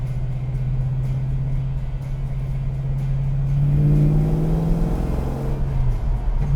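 Custom 1971 Plymouth Cuda with a deep steady engine drone that climbs into a louder revving pull as it accelerates, heard from inside the car with no talking.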